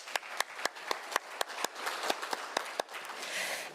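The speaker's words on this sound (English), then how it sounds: "I think he deserves a round of applause." A small group at a conference claps in a sparse, uneven patter, sharp individual claps standing out over a soft wash, moderately close.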